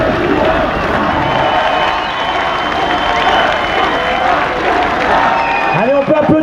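A large crowd at a French political rally for Benoît Hamon cheering and applauding loudly, a dense roar of clapping and shouts throughout, with a voice calling out over it near the end.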